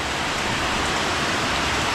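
Heavy rain pours down in a steady, dense hiss that fills the scene evenly from start to finish, loud and close, with no voices or other sounds breaking through.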